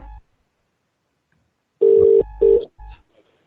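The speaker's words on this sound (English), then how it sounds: "There's Ivor ringing." A telephone rings in a radio studio as a guest calls in, two close electronic ring bursts in quick succession with brief thumps before and after, set against near silence.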